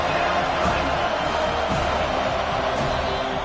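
Football stadium crowd at a college game, a dense sustained roar of cheering and noise that stays broad and loud throughout with no clear breaks.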